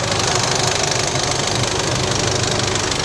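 A 2014 Isuzu MU-X 2.5 DDI diesel with a VGS turbo runs at a steady idle, loud and close, with an even rattling clatter and no talking.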